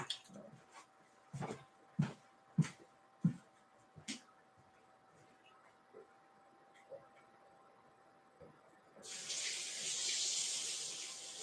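A household tap is turned on about two-thirds of the way in, giving a steady, fairly loud hiss of running water after several earlier knocks and clunks from handling things nearby.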